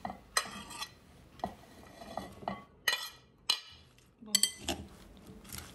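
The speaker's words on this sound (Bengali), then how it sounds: "কাসুন্দির সাথে পুরো সালাদের আইটেমগুলো খুব আলতো করে মেখে নিচ্ছি" Utensils clink and scrape against a bowl as a salad of tomato, cucumber, Malabar spinach, chopped onion and green chili is gently mixed with oil and kasundi mustard sauce, giving several separate close taps with quiet stirring between them.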